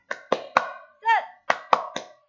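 Children clap in a quick rhythmic pattern for an Indonesian classroom cheer, a few sharp claps, a short chanted shout of "semangat," then more claps, close and clear.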